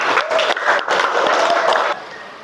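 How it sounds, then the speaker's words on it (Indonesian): A short burst of classroom audience applause for a student group presentation, loud and close, with some voices mixed into the clapping before it fades. "beri aplaus"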